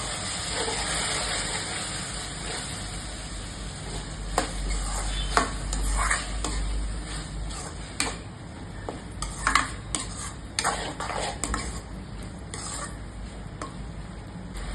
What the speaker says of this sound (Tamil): எல்லாம் நல்லா கலந்து